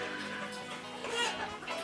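KUB chickens, an improved Indonesian native breed, cluck steadily on a poultry farm in West Sulawesi, with overlapping calls from several birds forming a dense, continuous layer of farmyard noise.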